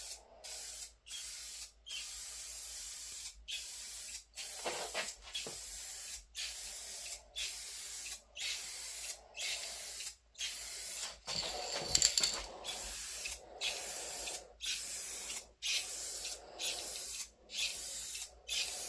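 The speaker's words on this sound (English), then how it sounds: "you want to overlap your clear coat at each time you make a pass" Clear coat is sprayed onto car headlights in a run of short, even hissing bursts, roughly one per second, each separated by a brief silent gap, close and steady from start to finish.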